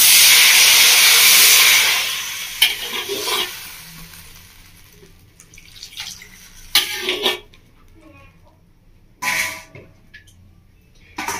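Water poured into a pan of frying drumsticks (moringa pods) and spices gives a loud hissing sizzle that fades over about two seconds, followed by quieter stirring and a few clattering bursts of utensil noise.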